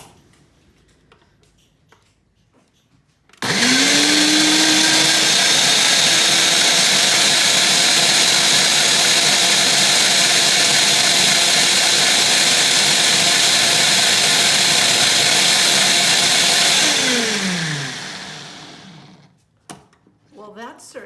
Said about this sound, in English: let's put it in the blender.